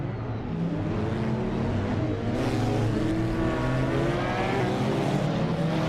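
A field of race cars pulling away at the start at Circuit Depot Total in a racing game, including a 2017 Porsche 911 GT2 RS on pole, a steady loud roar of engines with rising revs and no talk.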